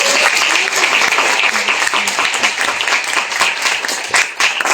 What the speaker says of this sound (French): Donc on vous applaudit très fort